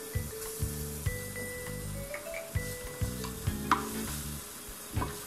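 Garlic sizzling in hot oil in a pan, a crisp close sizzle broken by periodic stirring scrapes and clinks, fairly quiet, with no talking.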